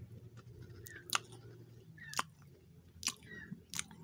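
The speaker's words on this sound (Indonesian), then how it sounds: "Oke, saya coba dulu dari Richwell Ajib Coklat Cookiesnya." Crunchy Richwell Ajib chocolate cookies bitten and chewed up close, four sharp crunches spaced about a second apart over quiet background, with no talking.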